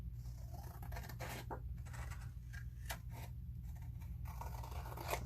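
Scissors trimming excess paper from the cover of a small handmade mini notebook, quiet close snips and scraping rubs in short irregular bursts over a low steady hum.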